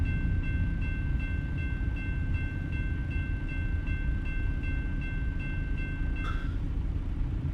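A train rolls past a crossing in American Truck Simulator, a steady low rumble of wagons with a constant ringing crossing bell tone that cuts off near the end.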